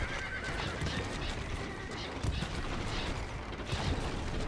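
Horse neighing in the medieval strategy game Stronghold: Crusader, a loud whinny over a dense, continuous battle din with clip-clop hoofbeats and sporadic gunfire-like bursts, no talking.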